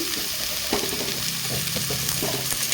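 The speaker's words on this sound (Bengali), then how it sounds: "এখানে আমি সব সবজি আমি একটু হালকা ভেজে নেব" Carrot, cauliflower and beans fry in oil for vegetable soup, giving a steady close sizzle with light scraping stirs mixed in and no talking.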